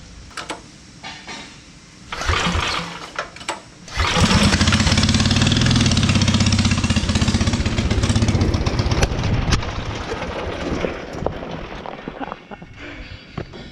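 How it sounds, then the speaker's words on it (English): A motorcycle engine cranks and catches, then runs at a loud, raw, fast idle set too high; it settles somewhat lower after several seconds, with nearby hissing and handling noises before and after. "It's idled up too high."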